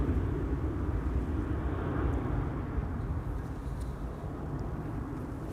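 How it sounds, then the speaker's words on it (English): Delta Airlines plane on its takeoff roll from runway 36L at Amsterdam Schiphol on a windy day, a steady broad jet engine roar, distant and unbroken, slowly fading slightly. "It will be interesting to see if Delta Airlines flight 161 will take off successfully this time around."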